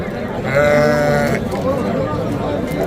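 Sheep bleating at a lamb and sheep market in Shahrikhan, Andijan: one loud, close, wavering bleat, then fainter market noise and background voices.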